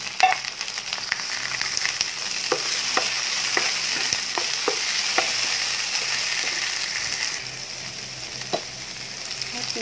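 Onion sautés in a pan with a constant bright sizzle, punctuated by light scraping clicks from stirring at irregular intervals, easing off slightly toward the end.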